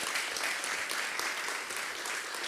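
Dense, steady applause fills an auditorium at a Python programming conference as a talk ends, many hands clapping together at a constant loud level throughout.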